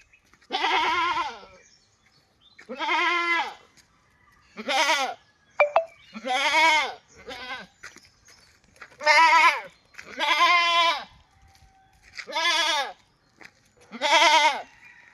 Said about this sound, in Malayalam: ഒരു ഹൈദരാബാദി പെണ്ണാട്